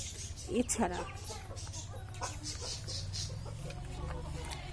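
A few healthy backyard chickens cluck nearby, with a short cluster of clucks early on and then quieter scattered calls over a steady low background hum.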